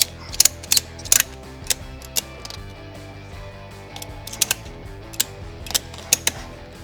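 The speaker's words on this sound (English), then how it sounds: "And then we can just ratchet it down nice and tight." A ratchet strap on a Rock Slide Engineering EZ Rack Rotopax mount is cranked tight, giving sharp close clicks in short bursts with pauses between pulls, and no voices.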